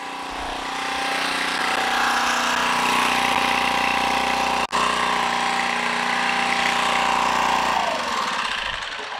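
A small engine-driven generator runs steadily at close range, a dense continuous mechanical drone with a brief dropout midway and a slight change in tone near the end.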